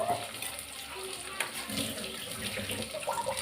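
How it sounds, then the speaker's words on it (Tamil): Tamarind water pours steadily into dal cooking in a pot, a continuous close-up trickling wash with kitchen noise underneath and no clear break. "கொஞ்சமாக புளி ஊற்றிக்கலாம்."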